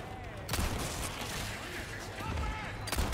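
Gunfire from Resident Evil 4 Remake, aimed at an old woman enemy: a few sharp shots, near and loud, over game noise and a tense backdrop.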